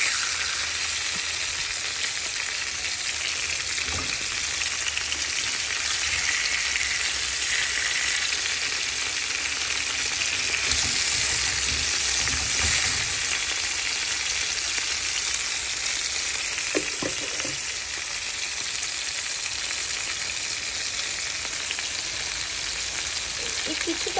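Hilsa (elish) pieces lightly frying in oil for dopiyaji, a continuous, even sizzle that holds steady throughout with a few faint clinks and no talking.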